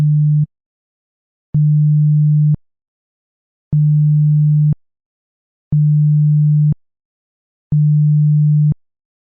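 A vessel's warning sound signal, used to alert a give-way vessel that is not keeping clear. Five steady horn-like tones of about one second each sound alone, evenly spaced.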